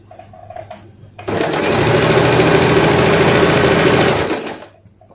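A sewing machine stitching the hem of a salwar runs in one continuous, loud, close whirring burst of about three seconds, ramping up and then tapering off, with no talk.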